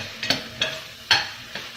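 A spoon stirring lentil stew with zucchini and silver beet in a pot, four distinct scraping, sloshing strokes spaced unevenly over a soft background sizzle, close and fairly clear, with no speech.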